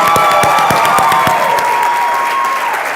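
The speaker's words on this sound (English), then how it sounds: "Give our talented musicians another round of applause" An audience applauds musicians after a performance, with steady clapping and some cheering from a nearby crowd, continuous for three seconds before easing slightly at the end.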